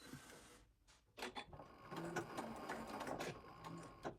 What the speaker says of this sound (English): you want to back stitch at each point like that.